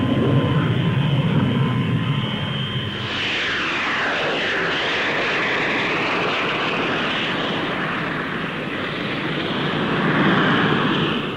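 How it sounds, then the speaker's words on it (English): A Folland Gnat lightweight supersonic jet fighter flies at a 1950s Farnborough air show, its loud engine roar sweeping past with a falling pitch and then holding a sustained, rushing drone as it moves away. "Now Squadron Leader Tennant prepares to take up the Folland Nat-1, a development of the Midge."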